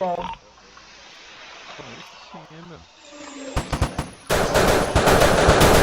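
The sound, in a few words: gunfire in the video game MTA San Andreas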